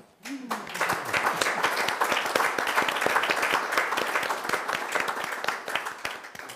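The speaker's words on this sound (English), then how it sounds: "I would like also to invite you to give a welcome applause to the panel" An audience at a panel event bursts into warm welcoming applause after a brief spoken line, with brisk, dense clapping holding steady to the end.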